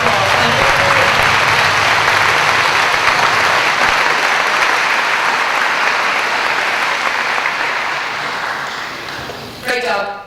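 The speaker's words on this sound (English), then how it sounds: "So give them a round of applause." Applause for senior award recipients at a high school awards event, a dense sustained clapping from a large audience that slowly tapers off, with a voice speaking at the very end.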